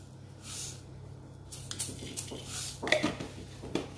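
Mustard seeds splutter in a spoonful of hot oil in a pan, cooking for a beans thoran: scattered soft crackles and pops, faint and close, growing busier toward the end over a low steady hum.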